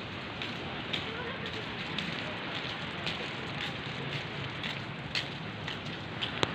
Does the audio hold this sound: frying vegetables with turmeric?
no